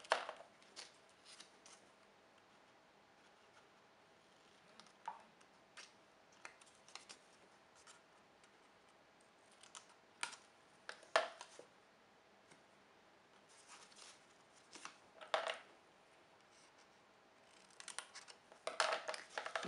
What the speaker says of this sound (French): On va couper un léger biais